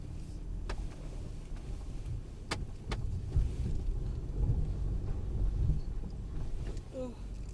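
A Mercedes-Benz car climbs an off-road bank, its engine a steady low rumble close by, with a few sharp knocks and thumps from the suspension and body as it works over the uneven ground.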